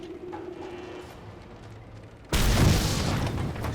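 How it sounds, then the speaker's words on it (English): A sudden loud boom as base doors are blown off in the video game Mad Max, cutting in hard after a quiet stretch of low ambience and holding as a roaring, rumbling blast. "one way to get into bases is just blow the bloody doors off"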